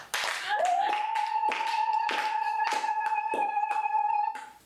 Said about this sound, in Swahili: Pigeni ufalme makofi